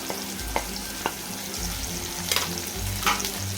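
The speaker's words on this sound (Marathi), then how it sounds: "परतून घेते" Spices sautéing in hot oil for dal khichdi, a close crackling sizzle with a few quick scrapes and taps of a spoon against the pan.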